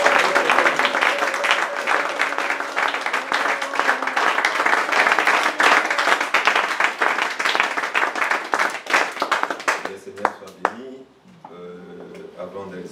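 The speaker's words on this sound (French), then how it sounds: "Applaudissons encore pour le Seigneur" Church congregation at a full-gospel service applauding for the Lord, loud sustained clapping with voices mixed in for about ten seconds before it breaks off into quieter sounds.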